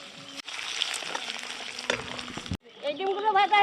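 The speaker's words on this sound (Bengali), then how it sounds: "বাকিগুলো এরকম করে ভেজে নিচ্ছি।" Boiled eggs fry in hot oil in a pan at an outdoor village picnic, a crackling sizzle with stirring scrapes, broken by a short pause and followed by a voice speaking.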